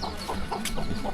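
A chicken clucks in a brief burst of short, close calls in a mountain village.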